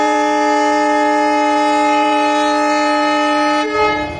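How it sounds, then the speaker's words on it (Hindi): Horn of the Belagavi (Belgaum) Express superfast train as it departs, a loud, steady, close sustained tone that holds for several seconds before cutting off into rumbling noise. "तो दोस्तों अपनी बेलगाम एक्सप्रेस डिपार्ट हो रही है अभी"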